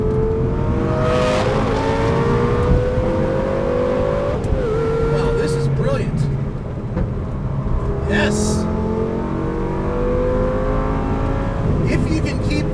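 A 2004 Lamborghini Gallardo is driven hard on a race track, its engine loud and close as it revs up through the gears with rising pitch, with brief tire squeal. A driver talks excitedly over it.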